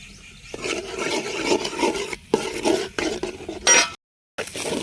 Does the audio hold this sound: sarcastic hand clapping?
no